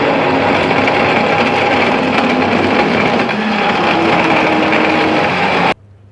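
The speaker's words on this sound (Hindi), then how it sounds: "और इसको हम ब्लेंड कर लेंगे।" A kitchen blender whirs loudly and steadily for about six seconds as it blends a liver health drink of water, ice cubes and sugar, then cuts off abruptly, with no talk.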